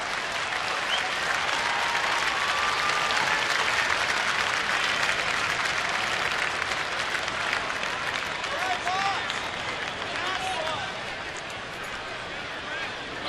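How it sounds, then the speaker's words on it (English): A baseball crowd gives a sustained ovation after a double at a Pirates–Nationals game: dense, loud applause and cheering that holds steady throughout, easing slightly toward the end, with broadcast commentary voices underneath. "I would assume there's a nice ovation coming from the crowd right now."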